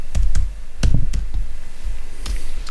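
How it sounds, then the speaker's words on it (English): Typing on a laptop keyboard, heard as a few quick, close, clicky keystrokes in short bursts over a steady low background hum, with no talking. "I'm going to type into YouTube."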